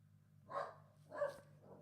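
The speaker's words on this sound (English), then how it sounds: "That's Oliver barking at another dog." A dog barking at another dog gives two muffled barks, moderately close, with a fainter third sound trailing after over a low background hum.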